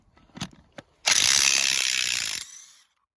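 A RIDGID 18V brushless subcompact impact wrench removes a bolt. A couple of soft clicks come first, then a loud, close burst of rapid hammering lasts about a second and a half before it stops and winds down.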